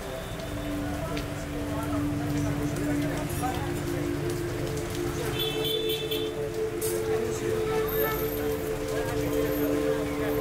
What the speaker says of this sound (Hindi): फॉर एग्जांपल आज भी जैसे आज सुबह से ही बारिश होता है